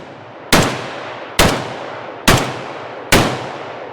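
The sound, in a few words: test firing a Zastava ZPAP M72 RPK rifle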